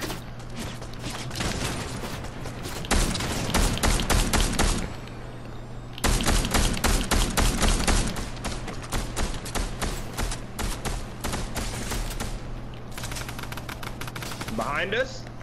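Rapid bursts of gunfire in a multiplayer shooter, long loud volleys with short pauses between them, players talking over the shooting.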